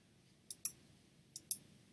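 A computer mouse gives four crisp, faint clicks, close by and in two quick pairs, against near silence.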